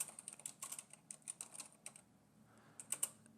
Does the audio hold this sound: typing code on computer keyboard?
yes